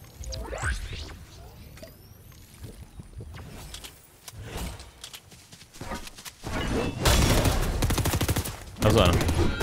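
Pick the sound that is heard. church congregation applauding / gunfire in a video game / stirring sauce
gunfire in a video game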